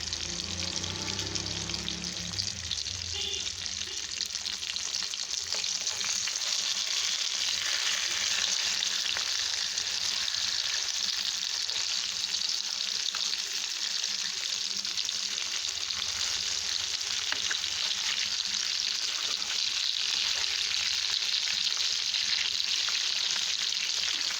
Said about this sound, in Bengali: তেলাপিয়া মাছ ভাজা করছি